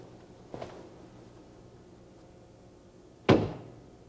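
A door in an office closed, with a light knock or bump followed about three seconds later by a louder, sharp slam against quiet room tone.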